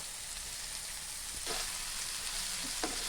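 Tomato, onion and chopped red amaranth leaves frying in a pan give a steady close sizzle, with brief stirring scrapes near the middle and end and no talking.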